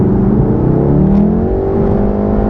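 A VW Golf R with a DSG gearbox, held in manual mode, accelerates from inside the cabin, its engine droning loudly and rising steadily in pitch for a couple of seconds.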